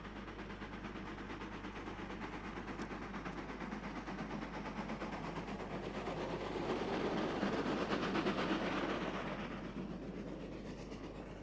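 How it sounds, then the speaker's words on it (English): GO class steam locomotive No. 2575 hauling a mixed train across the Swat River Bridge at Mission, a steady rolling rumble with faint rhythmic clatter that swells louder midway and then eases, with no voices. "another mixed train on the Swat River Bridge at Mission, this time in the capable control of GO number"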